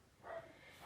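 A small-breed dog gives two short, fairly faint yips or barks indoors, about half a second apart, reacting to unfamiliar noises from a neighbour's backyard.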